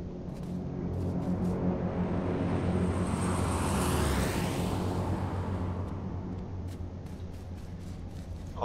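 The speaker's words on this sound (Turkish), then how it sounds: "Uçak bomba atıyor." A bomber aircraft flying overhead in the H1Z1 video game, a loud, continuous engine roar that swells as it passes close, then slowly fades, with no explosions clearly audible.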